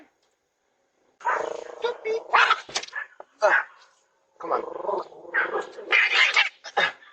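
A dog barks and growls in loud, rough bursts, picked up by a Ring doorbell camera at a home in New York during a theft, with a person speaking briefly among the barks.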